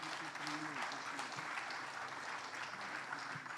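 An audience at a coaches clinic claps to welcome a coach, steady applause filling the room at a modest distance with a voice speaking faintly underneath.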